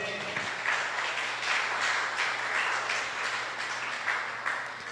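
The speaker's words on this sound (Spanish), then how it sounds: "Denle un aplauso al Señor" Steady applause from a church congregation, a continuous wash of many hands clapping at even loudness for the whole stretch, with no voice over it.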